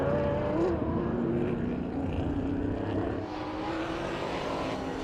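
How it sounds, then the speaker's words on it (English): Sports sedans racing around Calder Park circuit, a continuous roar of engines heard from a distance with a slight shift in tone as the cars move away. "Cars continue up over Jane Hill."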